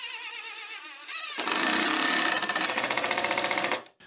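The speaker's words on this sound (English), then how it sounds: "this is actually the first official cut where I cut the slot in the insert for the blade" A homemade band saw starts up and cuts a blade slot into a plywood table insert, a steady buzzing whine with rapid pulsing that begins after a quieter lead-in and cuts off sharply near the end.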